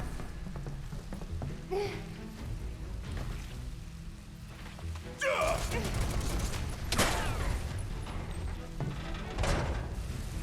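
Gunfire in the Final Fantasy VII Remake video game: bursts of rapid shots and impact cracks over a steady rumbling game soundscape, growing louder partway through, with a few sharp accents near the end.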